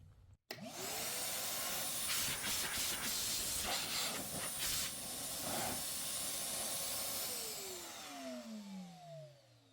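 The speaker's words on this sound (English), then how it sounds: "A very powerful blower." An Armor All wet/dry vac runs as a blower, starting abruptly with a loud, steady rushing hiss that holds for the full length, then a falling whine begins to sweep downward near the end.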